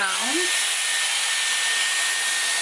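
A Dyson Airwrap hair styler blowing at its highest heat and airflow setting, a steady loud rushing whoosh after a brief rising whine as it spins up, continuing unbroken close by.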